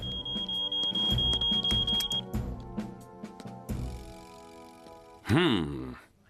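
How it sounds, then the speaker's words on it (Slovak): A high-pitched electronic alarm tone rings steadily for about two seconds amid clattering household noises, with a voice groaning nearby. "Alarm sa spustil sám od seba."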